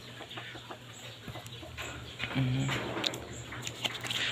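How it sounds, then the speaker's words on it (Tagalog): Chickens cluck softly nearby, with a few short calls amid steady, windy outdoor background noise. "Oh, may mga manok pa."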